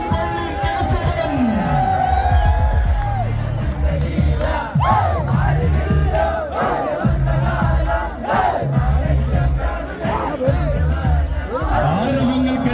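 A large crowd roars at a Kerala temple elephant procession with the elephants Puthuppally Kesavan and Guruvayoor Nandan. The loud, continuous cheering carries shouts and whoops, and a voice speaks over it.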